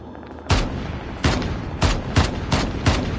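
Sniper gunfire in the Call of Duty Mobile video game: five loud, sharp shots spaced about half a second to a second apart, each with a short decaying tail, with no talking.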